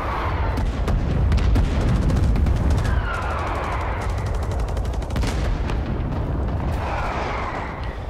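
Dense battlefield gunfire from the Rising Storm 2 video game, M1 Garand rifle shots among heavy overlapping rifle and machine-gun bursts with booming explosions, loud and continuous.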